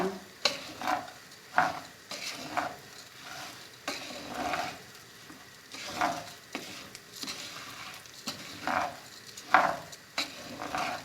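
Meat kavurma for pilaf sautés in a pan with a steady low sizzle, while a spoon scrapes and stirs in repeated strokes about once a second, close and clear.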